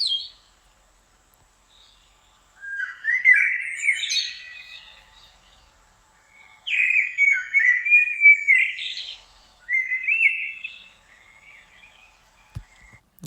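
Synthetic blackbird song set at summer dusk in a forest: clear, fluting whistled phrases in three separated bursts with quiet pauses between, heard alone against near silence.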